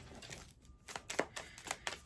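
Tarot cards being shuffled by hand, a run of quick crisp riffling taps and flicks close by, with no talking over them.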